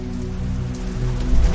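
Rain falls steadily at night in a forest, a dense close patter on surfaces that swells slightly louder toward the end, with no voices.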